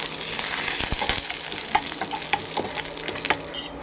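Mustard seeds pop and crackle in hot oil for a sardine fish curry, a steady sizzle dotted with sharp, irregular bursts close by, with no talking.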